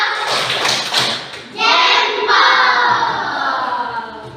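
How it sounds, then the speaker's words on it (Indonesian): A classroom of students performs a thumbs clapping chant for a group, with quick taps and claps at first, then loud unison chanting voices. "Mari kita tepuk jempol untuk kelompok M4"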